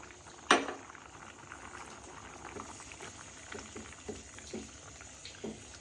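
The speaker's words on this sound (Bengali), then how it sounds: "কি সুন্দর বলক উঠতেছে" An egg and potato curry bubbles at a rolling boil in a pot, soft close bubbling with scattered pops and one sharp clink of a utensil early on.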